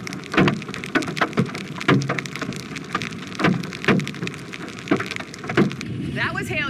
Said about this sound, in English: That was hail you were hearing, and heavy rain, lightning also slamming Texas yesterday.